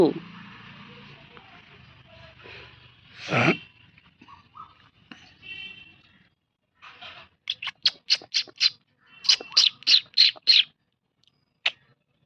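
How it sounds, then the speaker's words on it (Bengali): Birds call outdoors in a short burst of quick, high chirps, repeated in two clusters after a few quieter, scattered sounds. "কি সুন্দর পাখি ডাকছে।"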